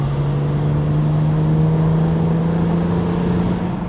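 A BMW Z4 M Roadster drives through canyon roads, its engine holding a steady, loud, rising drone for a few seconds, close up with no voices.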